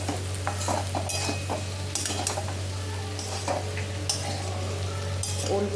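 Diced elephant foot yam and potato are sautéed with cumin, bay leaf, turmeric and salt, giving a steady sizzle under repeated scraping and clinking of a spatula stirring in the pan.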